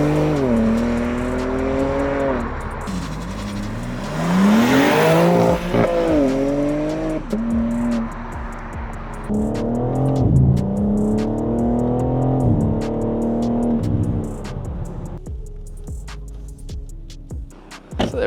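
A BMW M4 Competition pulls hard on a road drive, its engine revving up through several gears with rising and falling pitch, a loud, close, continuous exhaust note with no talk.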